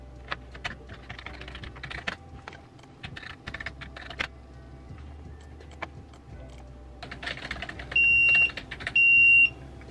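A doctor quickly typing on a computer keyboard in a hospital, bursts of rapid key clicks with pauses, then two short electronic beeps near the end.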